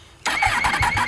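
A Yamaha MT-10 motorcycle with a decat exhaust pipe barks into life and revs in quick pulsing bursts, loud and close, after a brief quiet moment.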